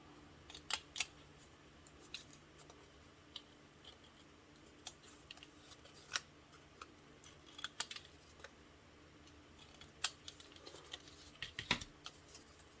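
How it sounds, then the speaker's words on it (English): Scissors snip the little edges off a folded paper purse gift box, a series of quiet, crisp cuts coming in irregular bursts over a faint room hush, close by and with no talking. "And just cut those little edges off again."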